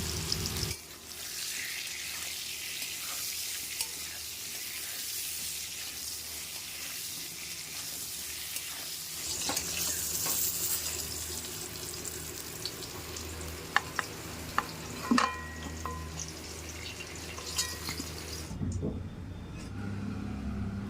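Potato and pointed gourd fry with turmeric and salt in a kadai of oil, a steady sizzle running throughout with occasional scraping stirs and clinks near the end.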